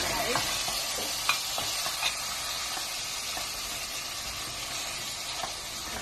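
Beef sizzles and fries in a pan with garlic for kare kare, a steady loud hiss with occasional stirring clinks, close up.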